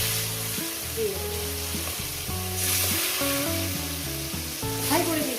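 Chicken pieces fry over a high gas flame, giving a steady, close sizzle with some stirring. Background music plays over the frying.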